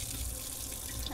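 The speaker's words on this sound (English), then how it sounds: "So first I'm just gonna turn on the water" A bathroom sink tap turned on for handwashing, with water running in a steady broadband rush that stays close and continuous throughout.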